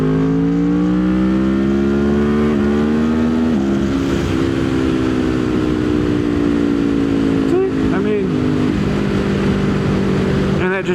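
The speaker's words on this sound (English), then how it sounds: "Like, here, I'll do a quick pull." A 2025 Kawasaki Ninja 500 SE KRT revs up loud and close in a quick pull through city streets, the engine note climbing steadily with gear shifts, a rider's voice briefly heard near the end.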